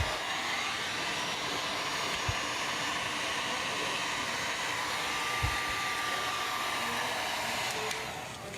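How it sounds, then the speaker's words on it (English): A heat gun blowing over a painted canvas in an artist's studio, a loud steady fan-and-air roar holding unbroken throughout and tapering slightly at the end. "I'm gonna grab the heat gun, make sure everything's nice and dry before I roll it up for the day."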